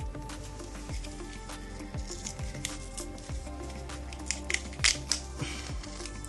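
Packaging being peeled back from a Fitbit Versa 3 charging cradle, with close crinkling, crackling and tearing plastic in irregular bursts that sharpen toward the end, under light background music.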